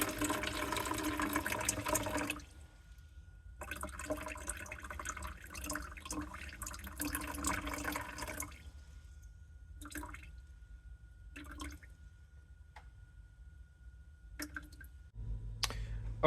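Water, 129 milliliters measured for an investment casting mold, poured into a mixing cup. The splashing stream starts, pauses, runs steadily for several seconds, then breaks into a few short trickles and drips.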